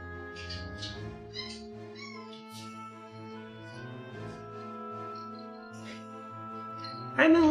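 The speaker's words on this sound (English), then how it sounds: "I hear my cats meowing." Cats meow in short, repeated cries over a steady background of sustained tones, ending with a sudden louder clatter.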